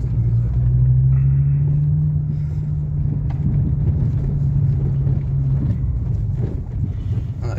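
A Mercedes car engine rumbles loudly as throttle is added, its pitch rising briefly then holding a steady throaty drone, close by with some wind noise.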